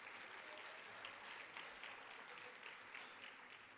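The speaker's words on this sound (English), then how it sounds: "Let's give a round of applause for that." Steady applause from a crowd at a high school sports awards event, a dense wash of clapping that holds evenly for a few seconds without talk.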